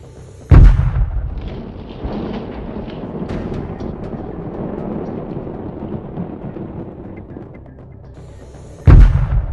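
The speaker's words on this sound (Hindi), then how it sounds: "बीती रात जब आप सो रहे थे, अमेरिका ने अफगानिस्तान में फोड़ा सबसे बड़ा बम।" The GBU-43 bomb explodes in Nangarhar province, Afghanistan, with two heavy, loud booms, one at the start and one near the end, and a low rumbling roll between them.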